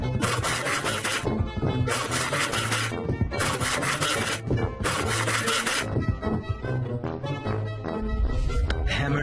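Rhythmic rasping strokes of a hacksaw cutting wood for a birdhouse, in bursts with short pauses, with music playing underneath.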